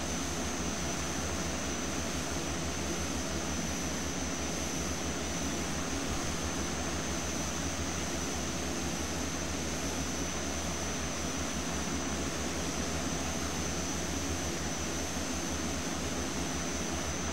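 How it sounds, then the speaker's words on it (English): Small plane in Flight Simulator X rolling forward on its own, a steady continuous engine drone with a high whine held evenly throughout, no talk over it. "What a pretty little plane. Rolling forward by itself."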